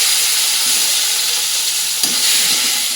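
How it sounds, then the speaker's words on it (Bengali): Chopped tomato hits hot oil with panch phoron, dried red chilli and bay leaf, giving a loud, continuous sizzle, with a brief stirring scrape near the end. "এবার কেটে রাখা টমেটোটা দিয়ে দেবো"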